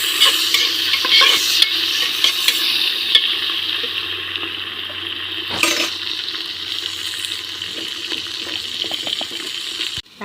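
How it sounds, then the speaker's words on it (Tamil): Tomatoes sauté for mushroom biryani in a pan over a wood-fired stove, giving a steady, close sizzle with repeated scraping and stirring strokes throughout and a brief sharper clatter midway; no voices. "தக்காளியும் நல்லா வதங்கணும்"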